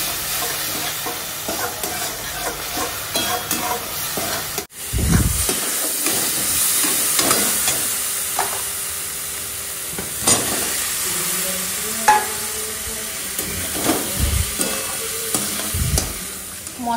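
Spice paste with a pinch of sugar sizzles steadily in a pan for a Bengali crab curry while a spatula scrapes and stirs it in repeated strokes, up close and loud, with one brief break partway through.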